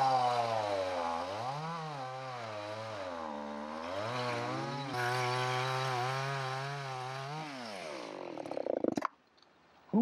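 A chainsaw cuts into a tree outdoors, its engine loud and close, rising and falling in pitch as it bogs into the wood and revs, then cutting off abruptly near the end.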